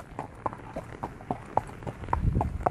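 Horse hooves clip-clop at a steady walking rhythm on a ranch trail in Portugal or Brazil, the sharp hoof strikes close and moderately loud over a low rumble of outdoor background.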